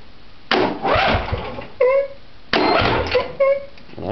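An old piece of farm equipment cranks twice in short grinding bursts, each ending in a brief catch and a sputter, heard up close with no talk.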